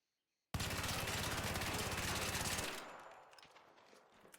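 Bobcat gun with compensator attachment in ARC Raiders, firing a rapid sustained burst for about two seconds after silence, then cutting off into a fading echo and scattered small clicks.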